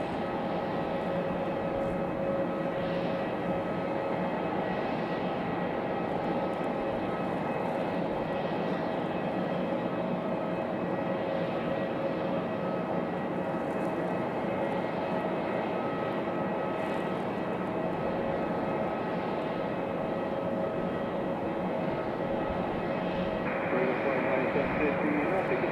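Southwest Boeing 737 MAX jet arriving at Raleigh Durham, a steady broad engine roar holding throughout at moderate distance, with faint talk running under it.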